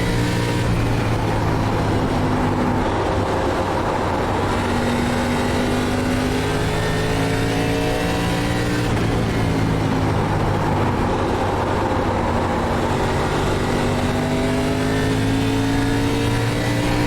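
ARCA Chevrolet Impala race cars roar around Bristol Motor Speedway, engines droning continuously with rising and falling pitch sweeps as the cars circulate, loud and sustained throughout.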